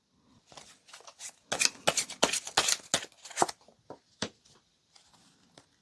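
Tarot cards are shuffled and drawn in crisp bursts of riffling and snapping card noises, loudest in a dense cluster midway, then thinning to a few scattered flicks with quiet between them.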